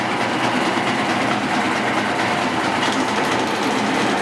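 Shop dust collection system sucking wood dust through ducting under the floor, a steady, loud broadband rushing roar that continues unbroken throughout with no speech.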